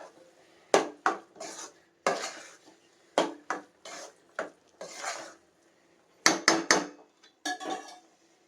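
Katte pongal being stirred with groundnut oil in a pot, heard as a series of loud, close scraping and clanking strokes of a ladle against metal, coming in irregular bursts with short pauses between.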